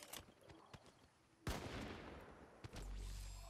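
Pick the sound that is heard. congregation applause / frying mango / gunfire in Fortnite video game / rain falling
gunfire in Fortnite video game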